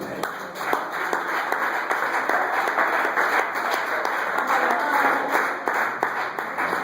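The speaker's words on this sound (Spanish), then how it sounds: "Un aplauso a Cristo" Church congregation applauding for Christ during a Spanish-language sermon, a steady, dense wash of many hands clapping, moderately loud, with a voice faintly mixed in.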